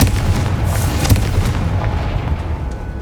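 A Confringo fire spell explodes in Hogwarts Legacy, a loud booming blast with rumbling, crackling bursts that roll on and fade over about three seconds.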